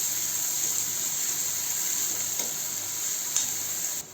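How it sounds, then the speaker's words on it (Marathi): Finely chopped onion sautés over high heat in a pan, making a constant close sizzle and hiss with a few faint stirring scrapes, and no voices. "त्यामध्ये बारीक चिरलेला कांदा, नंतर कांदा आपण परतून घेऊ"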